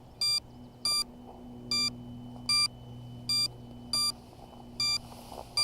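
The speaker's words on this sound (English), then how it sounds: "after a certain amount of time of the quad just sitting stationary without flying or being armed or anything, the ESCs start to beep" An idle, unarmed quadcopter's ESCs emitting short electronic beeps, about eight evenly spaced tones in a regular rhythm, clear and close over a quiet low hum.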